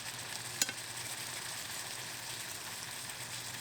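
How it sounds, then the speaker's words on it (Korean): Korean braised tofu simmering down in a pan of sauce: a steady, fairly quiet sizzling and bubbling hiss that runs throughout, with a single sharp click near the start. "바글바글 맛있게 졸여지고 있습니다."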